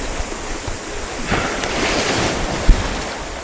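Sea waves wash onto a beach on the island of Koh Larn, a loud, continuous rushing surf mixed with wind buffeting the microphone, plus one brief thump near the end.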